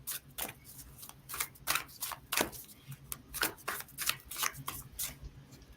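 A large deck of 75 oracle cards being shuffled by hand, with repeated close riffling and slapping bursts in an irregular rhythm, fairly quiet overall with no talking.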